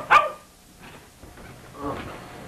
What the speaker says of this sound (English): Oh, stupid dog.